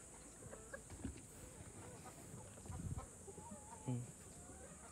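Chickens cluck in a small backyard farm during a morning feeding, soft scattered clucks and calls against a steady background hiss, with a louder burst near the end.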